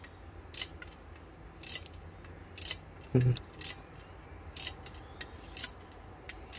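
Flex head ratcheting wrench from Deli, turned back and forth on a bolt in a tight spot, giving sparse bursts of crisp ratchet clicks spaced about a second apart, close and fairly quiet, with one soft thump midway.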